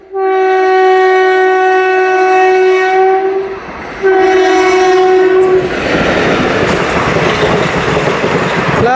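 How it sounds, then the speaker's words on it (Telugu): The Hubli–Narasapur Amaravati Express sounds a loud sustained horn, breaks off briefly, then blasts again before the near roar and clatter of the passing train take over. "హుబ్లీ నర్సాపూర్ అమరావతి ఎక్స్ప్రెస్"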